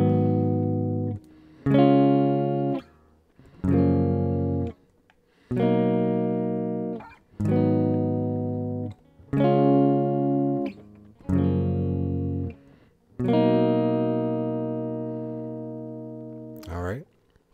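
Guitar strumming a 2-5-1-4 chord progression built from the major scale, several sustained chords struck one after another with short gaps, the last held longest, played alone without talk.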